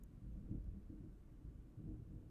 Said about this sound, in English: could really hear that thunder.